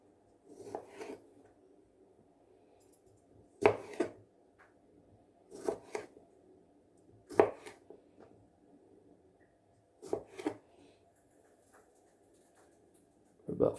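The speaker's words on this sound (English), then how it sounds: "Let's give these a little chop." A knife chops food for an egg and spinach lunch wrap on a board, producing sparse, quiet pairs of soft thuds separated by a few seconds of near silence, close and alone.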